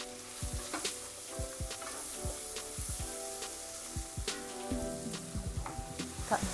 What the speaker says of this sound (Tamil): இதை வதக்கிட்டு கட் பண்ண பெரிய வெங்காயத்தை ஆட் பண்ணுறேன்.